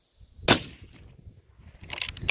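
A single sharp rifle shot cracks loudly near the start during a red deer hunt in the Catlins, New Zealand, then fades into quiet outdoor rustling and movement.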